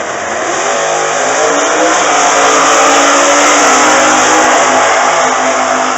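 A 1960s-style coupe super stock drag race car with a 440 cubic inch wedge engine roars steadily and loudly, its engine note sustained and slightly rising throughout.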